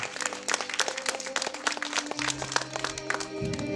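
Wedding guests clapping during a ring exchange at a ceremony, a scattered patter of many hands over sustained background music, moderately loud and continuous.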